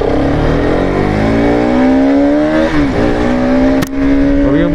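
Bajaj Pulsar RS200 motorcycle engine running loud and close, holding a steady revving drone with rising and falling pitch, said to have a misfiring problem.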